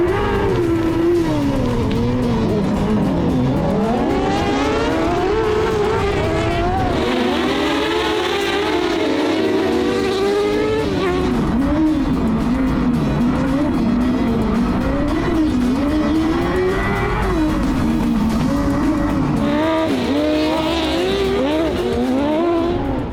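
Racing cars in a six-car field roar together, with engines revving and shifting continuously and tires squealing and skidding, loud and close throughout with no break in the noise.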